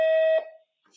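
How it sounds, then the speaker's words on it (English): A single long, steady electronic beep from a phone's voicemail system, loud and clean, ending abruptly before a brief quiet tail. "Please record your message after the beep."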